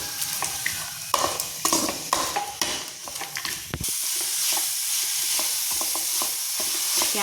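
Chopped onions frying in oil in a pan, a loud steady sizzle with scraping stirring and clinks of a spoon against the pan early on, then continuous frying hiss.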